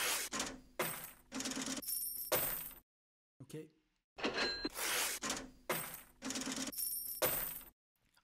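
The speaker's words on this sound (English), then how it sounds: "I have this different sample called just Money Single Effects" Sampled money sound effects: rhythmic bursts of jangling coins and clinking cash register sounds repeating in a looped pattern, loud and close, with a brief gap midway and a single spoken word.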